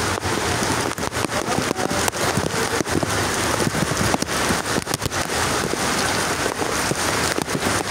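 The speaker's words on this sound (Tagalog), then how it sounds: "Ay grabe mga katropa, napakalakas talagang ulan." Heavy rain pours down steadily during a storm with flooding, a dense, loud hiss of drops drumming on surfaces with no letup and no voices.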